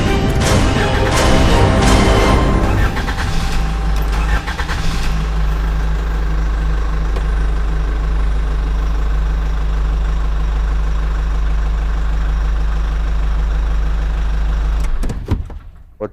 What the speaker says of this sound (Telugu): కూర్చొని కార్ ఇంజన్ స్టార్ట్ చేసిన.